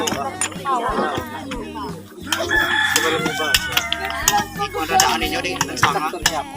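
A rooster crows loudly nearby amid clucking chickens, with people talking in the background throughout.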